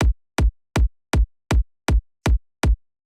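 Layer punch of a gated kick drum sample: eight short, punchy electronic kicks in a steady rhythm, each a quick bright attack sliding down into a brief low thump that is cut off tightly.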